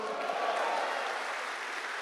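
Soft, steady applause from a church congregation during a sermon, a distant and even hiss of many clapping hands with no distinct individual claps.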